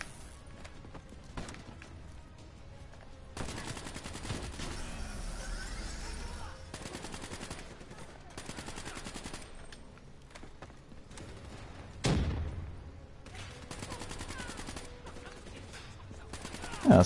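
Call of Duty Black Ops 3 campaign gunfire comes in faint bursts of rapid shots separated by quieter gaps, with a sharper louder blast partway through and another at the very end.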